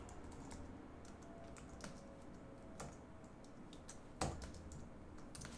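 Computer keyboard typing while coding an Azure Service Bus message sender and receiver: scattered, quiet key clicks at an irregular pace, with one sharper tap near the end, alone over a faint background hum.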